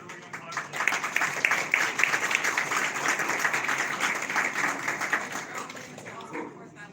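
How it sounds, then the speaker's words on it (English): A group applauds at a taekwondo black belt test, with a sustained burst of clapping that continues for several seconds before fading, and voices mixed in underneath. "We can clap for that."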